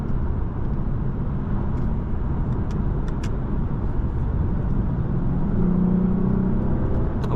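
A 2016 Lexus RC 300 F Sport AWD cruising with a low, deep engine rumble under steady road and tire noise, heard from inside the cabin, constant and fairly loud.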